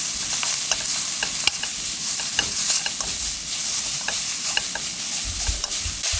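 Enoki mushrooms and garlic stir-fried in a hot wok: continuous sizzling and frying hiss with repeated scraping and clicking of a spatula against the metal pan, close and alone.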